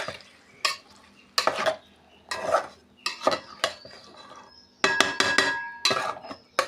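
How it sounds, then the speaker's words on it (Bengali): Food is stirred in a cooking pan with a spoon, giving a series of irregular scraping and clinking strokes, some sizzle under them, with short pauses between bursts, close and moderately loud. "এটাকে নাড়াচাড়া দিতে হবে।"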